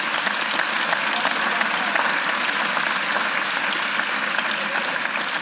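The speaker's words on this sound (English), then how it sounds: "Please give them a round of applause." An audience at a keynote event applauds: dense, steady clapping from many hands, sustained and evenly loud throughout with no pauses or voices standing out.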